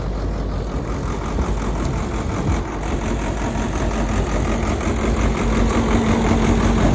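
Tractor engine running a back-to-back combine harvester machine in a field used for wheat, sorghum, mung and chickpea, a steady loud rumbling drone that holds constant throughout with no voices.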